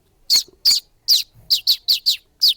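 A person whistles an imitation of a sparrow's chirping: eight sharp, high chirps in an uneven rhythm, clear and close, with no talk over them.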